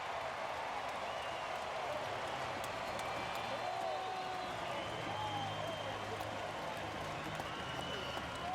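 Baseball crowd at Kauffman Stadium cheering and applauding as the Royals score the tying run against the Cardinals, a sustained, even roar of applause with a faint broadcast voice beneath it.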